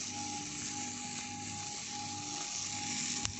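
Sliced garlic, ginger and onion cooking in a pan for fish paksiw give a steady, close hiss that runs unbroken throughout, with a faint low hum beneath it.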